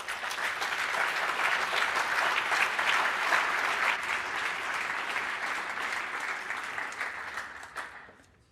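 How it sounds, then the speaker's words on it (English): A conference audience at the NGI Forum 2023 gives a sustained round of applause, dense and steady for several seconds before tapering and fading out at the end, with no talk over it. "from that round of applause"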